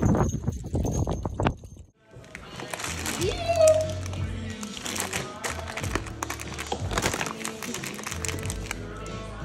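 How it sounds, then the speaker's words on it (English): Hooves of two harnessed horses clip-clop steadily as they pull a sleigh on a winter ride, loud and close, with voices talking over the rhythmic beat. "This is our biggest form of entertainment in the winter. We go for sleigh rides."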